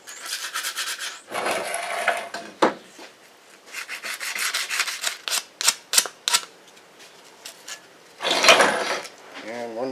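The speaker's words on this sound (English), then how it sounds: "I'm just at my grinder right now and cleaning up my intake bolts." Bolts from a 1994 Chevy S10 4.3L Vortec intake manifold being cleaned up at a bench grinder, with scratchy rubbing and rasping bursts, short taps and pauses, moderately loud and close.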